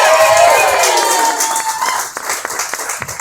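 A comedy roast crowd in a small venue cheers and claps loudly, with whoops over the applause; the noise fades into scattered claps and isolated hand claps near the end.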